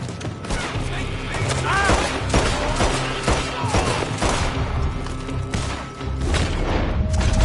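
Heavy gunfire from a shootout in the video game Red Dead Redemption 2: dense, overlapping shots and booming reports crackle continuously throughout, with voices shouting now and then beneath the barrage.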